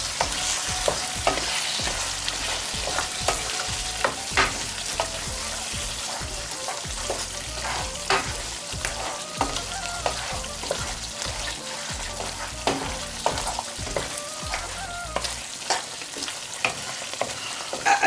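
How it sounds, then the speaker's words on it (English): Lamb karahi curry with fresh coriander being stirred in a pan, a steady sizzle running throughout with frequent sharp scrapes and clicks of the spoon against the pan, close and fairly loud. "I'm just going to mix that all in."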